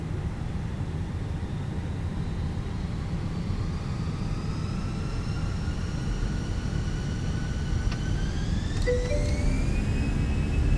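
Airbus A320 jet engines in a flight simulator spool up for takeoff, a steady roar with whining tones rising gradually in pitch as thrust builds, loud and continuous with a couple of faint clicks near the end.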